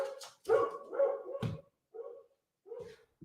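A dog barks in a recording studio, several sharp, fairly close barks and yips spaced unevenly with short quiet gaps between them.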